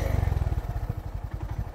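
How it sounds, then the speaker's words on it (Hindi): A motorcycle engine thumping at a fast, even idle rhythm up close, with some rattling clatter, as a beginner rider revs it and releases the clutch. "मैं इतनी रेस दे के और एकदम से क्लच छोड़ता हूँ तो भी बाइक बंद हो जाएगी।"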